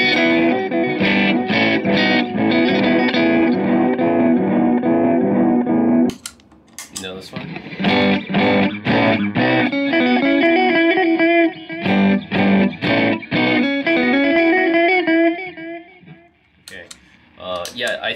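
A Catalinbread Belle Epoch or Hermida EPH-3 delay pedal with its knobs set high repeats guitar notes in dense, sustained, degrading echoes, loud and continuous with a brief dip midway.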